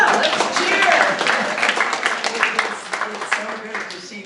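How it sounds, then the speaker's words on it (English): An in-person election forum audience cheering and applauding, a dense, fairly close wash of clapping and voices that peaks early and then slowly fades. "And let's cheer!"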